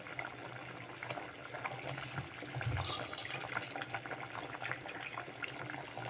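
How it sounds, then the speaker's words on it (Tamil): Pot of water at a rolling boil on a kitchen stove, ready for biryani rice: a continuous bubbling, gurgling wash with small pops, close by and moderately quiet, with no talk over it. "பிரியாணிக்கு நல்லா தண்ணி கொதிச்சு வருது."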